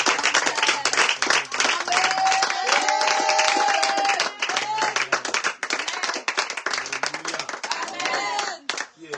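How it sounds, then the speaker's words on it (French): A church congregation claps and cheers for Jesus during a morning service, a loud, sustained wave of applause with crowd voices and a preacher's talk over it. "Est-ce que tu peux acclamer le Seigneur Jésus?"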